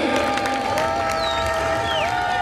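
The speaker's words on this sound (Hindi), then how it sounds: "जोरदार तालियों से स्वागत करें" Crowd applause and cheering at a live Ramlila awards ceremony in Azadpur, a steady wash of clapping with a sustained tone and brief whistle-like sweeps above it, moderately loud throughout.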